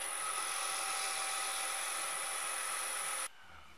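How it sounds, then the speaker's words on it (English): Abrasive 180-grit sandpaper pressed against a spinning wooden salt or pepper grinder top on a lathe, a steady broadband hiss with a constant high motor whine, cutting off abruptly near the end into quiet. "Just a little sanding, and I start with 180."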